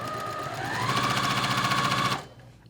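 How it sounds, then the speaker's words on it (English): Sewing machine stitching quilt block seams with a 1/4-inch foot, a fast steady run of close, loud stitching rattle that rises slightly in pitch, then stops abruptly. "So let's sew these seams first."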